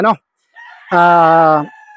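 A pure Boston Roundhead gamefowl broodstag crows once, close and loud, in a harmonic call of under a second, preceded by a brief cluck.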